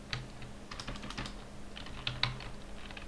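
Quick, light clicking keystrokes on a computer keyboard while entering an SQL query, irregular taps close by with small clustered bursts and a brief pause midway.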